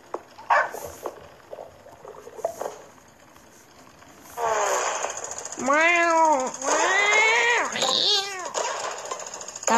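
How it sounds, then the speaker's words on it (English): A cartoonish cat creature called the ghost smoocher cat in a video game gives several rising-and-falling, warbling meows, loud and close, following quieter scattered game noises. "That is the noise of the ghost smoocher cat."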